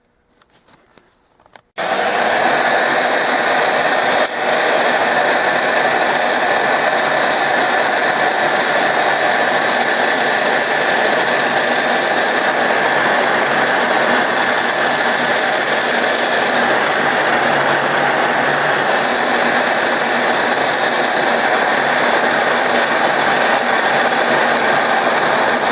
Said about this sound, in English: I take a router and try to route out wood like I've got in mind to do